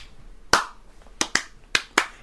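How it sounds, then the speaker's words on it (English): A single person claps alone in a quiet room: one sharp clap, a pause, then four more crisp claps in an uneven rhythm, close by. "He's clapping for himself, too."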